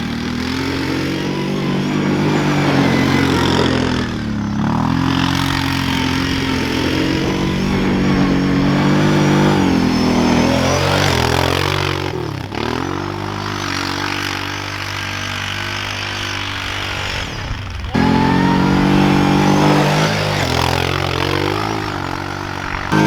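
A Kawasaki KFX 700 quad's engine revs loud and close while being ridden, rising and falling repeatedly, with brief throttle lifts between pulls.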